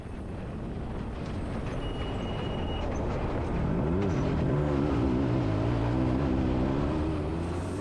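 A helicopter flies over the Dakar Rally, a loud steady roar of engine and rotor that swells midway, with whining tones sliding up and down as it passes overhead.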